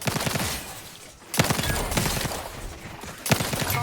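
Squad gunfire in The Outer Worlds 2 crackles in rapid, loud automatic bursts, with a short lull before a renewed volley and another burst near the end.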